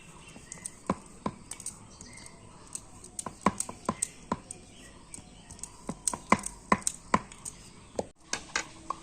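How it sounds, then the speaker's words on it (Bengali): Rolling pin working butter-layered dough for homemade cream rolls, giving a series of sharp, irregular knocks and taps against the board, close and fairly crisp, with no talking. "আবার ওটাকে সুন্দর করে রুটির আকারে বেলে নেব"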